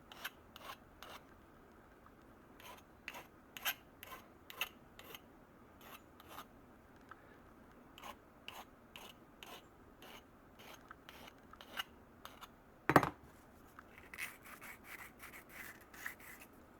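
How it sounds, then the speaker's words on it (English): Rasping file and sandpaper strokes smooth the sharp edges of a handmade candle snuffer. The strokes come in an uneven series of short scrapes, with one sharp click partway through and a quicker burst of strokes at the end. "Give this a little sanding so there's no sharp edges. You're better off with the file."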